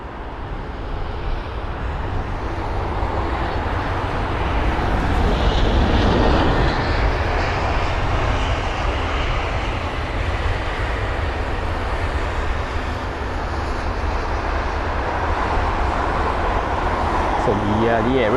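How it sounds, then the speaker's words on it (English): British Airways A320-200 jet arriving at London Heathrow, a steady rushing engine roar that swells slightly midway and holds for about eighteen seconds as the aircraft passes nearby. "this is the arrival of the British Airways flight from Aberdeen"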